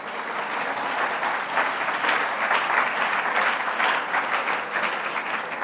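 A Sunday church congregation applauds the Lord during worship, a loud, sustained roar of many hands clapping together, steady and full from start to finish.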